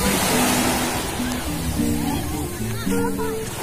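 Sea waves wash onto the shore at a beach resort in Antique, a steady near surf roar throughout, with people talking over it.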